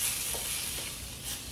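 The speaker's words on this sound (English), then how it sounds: "now let me stir some of this food up. I'm using my United States military spoon" A United States military spoon stirring combat ration food in a pot, giving a soft continuous scraping and mushy churning with a faint sizzle underneath, close up and without speech.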